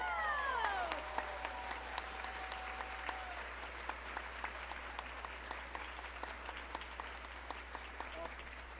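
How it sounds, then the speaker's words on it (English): A crowd at a young writers' event claps steadily for several seconds, distinct hand claps audible within the applause, with a brief whoop near the start. "Give a round of applause, everybody!"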